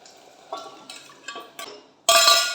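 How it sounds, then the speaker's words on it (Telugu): A ladle clinks against a pot several times before mashed boiled toor dal drops into sambar with a loud, sloshing splash and stir. "ఉడకబెట్టుకున్న కందిపప్పుని ఒకసారి కొంచెం మ్యాష్ చేసుకొని ఇందులో వేసేసుకోవాలి"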